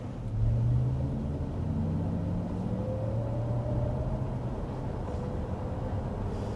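A Cadillac LYRIQ electric SUV drives with its motor sound effect, a low rumbling drone with faint rising and falling synthetic tones layered over road noise, steady and moderately loud.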